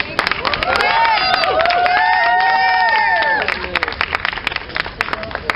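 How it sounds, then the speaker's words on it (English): Audience applause for Ken at the Coffee Cup Revolution community gathering in Vancouver, loud clapping mixed with cheering and excited voices that fades into scattered claps and chatter. "I want to have a big round of applause for Ken and for everybody"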